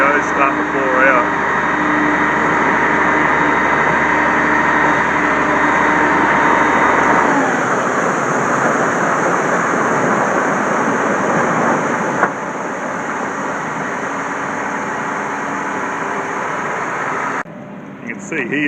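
Sugar cane slides from a raised trailer bin into a mill hopper as a steady, broad rushing pour over a running engine. Someone talks throughout, and the sound shifts partway through and drops near the end.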